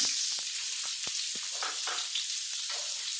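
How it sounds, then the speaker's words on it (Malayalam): Small pieces of chopped onion drop into hot oil with browned urad dal for masala rice, giving a steady, close, broad sizzle with a few faint clicks of a stirring spoon. "ഇനി ഞാൻ ഒരു ചെറിയ സവാള ഉള്ളി ചെറിയ പീസായിട്ട് കട്ട് ചെയ്തെടുത്ത് അതിട്ട് കൊടുക്കുകയാണ്"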